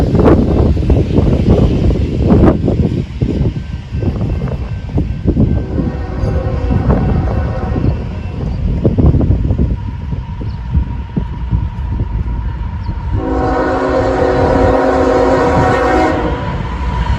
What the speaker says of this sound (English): The ethanol train in question